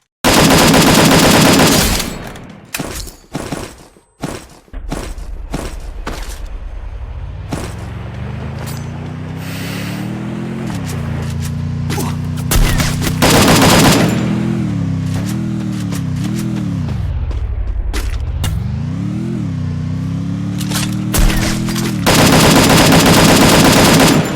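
Video game gunfire rattles out in loud rapid bursts and single cracks, then gives way to a sustained rising and falling engine-like drone with more shots over it near the end, close and intense.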